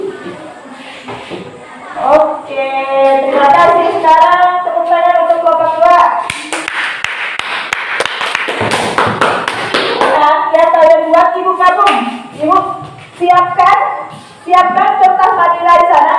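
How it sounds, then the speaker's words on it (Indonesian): A classroom of students claps for a presenting group, bursts of hand clapping that rise and fall over about sixteen seconds, mixed with voices and occasional thumps. "Sekarang tepuk tangan untuk kelompok 2."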